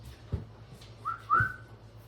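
A person whistles to a dog outdoors with two short, clear rising whistles, close and moderately loud, preceded by a faint thump and low background hum.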